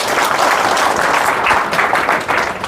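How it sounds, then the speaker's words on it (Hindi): Loud, dense audience applause for speaker Shiv Kumar Shastri at a teachers' gathering in Narnaul, Mahendragarh, Haryana, held for restoring the old pension. The clapping runs steady and close throughout with no break. "शास्त्री जी के लिए जोरदार तालियां।"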